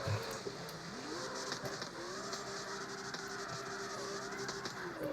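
An AE86 drifting and spinning out in the CarX Street video game, with its engine droning and wavering in pitch alongside tyre scrubbing, steady and close throughout.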